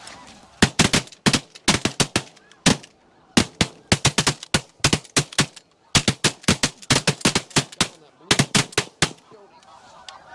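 Shotguns firing at snow geese over sheet water: rapid volleys of loud, sharp blasts in several clustered bursts, with brief gaps and faint goose honking between.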